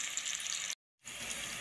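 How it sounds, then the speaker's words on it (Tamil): Finely chopped onion frying in oil for vegetable fried rice makes a steady, close sizzle that cuts out briefly partway through and then resumes. "எண்ணெய் ஊற்றி ஒரு வெங்காயத்தை பொடி பொடி நறுக்கி"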